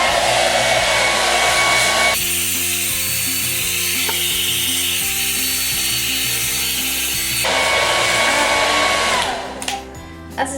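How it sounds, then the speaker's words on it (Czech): A handheld hair dryer blows steadily and loudly on hair that has been set with styling product, a continuous whooshing roar that shifts in tone partway through as the airflow changes, then cuts out near the end. "Trošku profénuju to tužidlo, aby ty vlasy byly suchý při tom natáčení."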